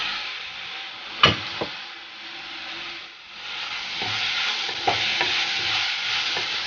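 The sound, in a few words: chopped tomato added and stirred into fish curry pan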